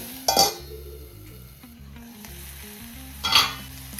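Ginger garlic paste fries in a pan with a steady, low sizzle, while two louder scraping stirs land near the start and near the end.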